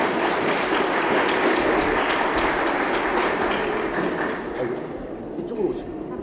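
Wedding guests applaud as the groom's father comes forward, a loud dense clapping that holds steady and then thins out toward the end, with voices mixed in.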